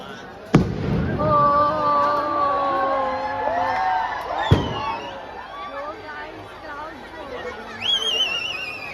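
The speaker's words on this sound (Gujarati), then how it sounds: "ફ્રીમાં ફટાકડાનો શો જોવો" At a public fireworks show, two sharp booms ring out several seconds apart over a dense crowd murmur, with rising whistles of rockets; people talk nearby.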